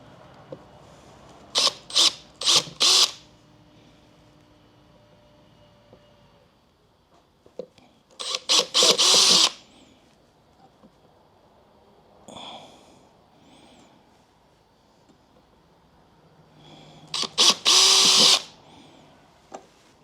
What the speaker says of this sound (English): we'll go ahead and pre-drill 4 holes.